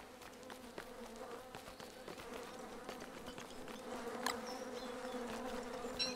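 Flies buzz steadily around a manure pile in the video game Don't Starve Hamlet, a dense, continuous insect drone with small clicks and ticks on top. It swells slightly louder toward the end, with no voices.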